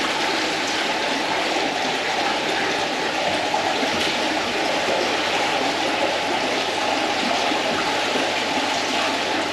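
Water rushes out steadily from a koi pond as it is drained, a continuous, fairly loud splashing flow like a stream or outlet gushing, holding constant throughout with no talk.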